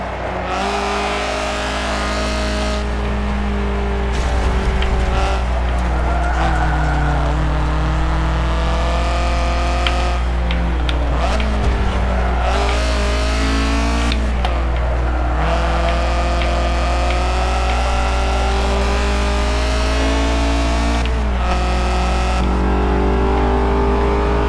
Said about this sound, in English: They killed it with the exhaust.